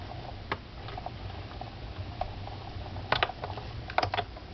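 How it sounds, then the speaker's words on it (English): A Big Shot embossing machine cranked with a letterpress plate and silicone pad gives irregular clicking and ratcheting ticks, with a few sharper clusters near the end. "run this now through our Big Shot machine"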